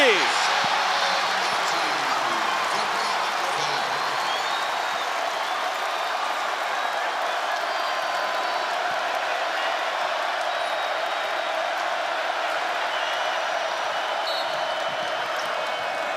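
A basketball arena crowd at a game against Texas A&M cheers and roars continuously, loud and sustained, with a commentator talking over it.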